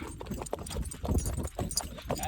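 Three mares' hooves clip-clopping on hard ground outdoors, a quick irregular run of close, distinct hoof strikes with no voices heard.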